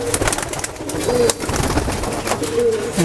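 Rajshahi Giribaz pigeons, a Bangladeshi flying breed, coo close by in repeated throaty calls, with handling rustles and scattered clicks around them.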